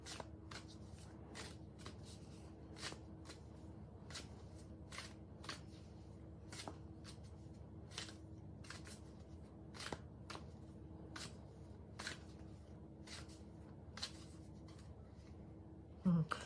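Tarot cards being shuffled by hand, a quiet, crisp riffle of card snaps repeating in short regular bursts over a low steady background hum, with no voice over the sound.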